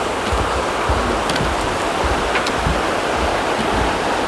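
A river flows beneath a trail bridge on the Appalachian Trail, a steady, close rush of water with constant volume and no voices.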